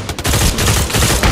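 Loud, dense automatic pistol fire in a VR game, a continuous rapid burst of close shots lasting about a second.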